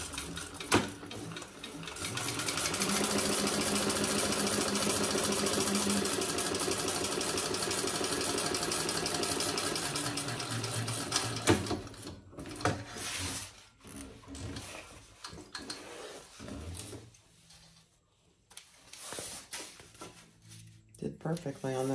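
Sewing machine running a long top-stitching pass on a tote bag of lightweight waterproof canvas, a steady close hum that stops partway, followed by rustling fabric handling.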